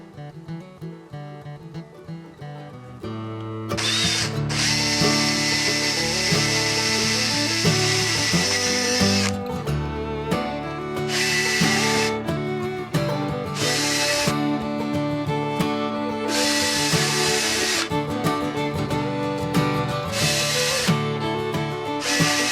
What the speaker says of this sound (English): I'll start by drilling a pilot hole, and I'll drill the larger hole.